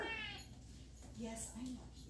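A pet cat meows a few times in a home kitchen while chicken Parmesan pasta is being made, with a person talking over it.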